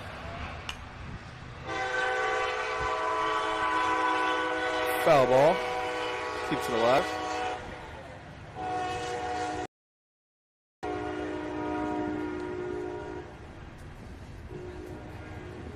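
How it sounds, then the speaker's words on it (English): A train passes just beyond right field at a Columbia ballpark, its horn sounding loud in two long blasts over a steady rumble, while a commentator talks during the game. "Can't really see it on the screen, but that train is right beyond the right."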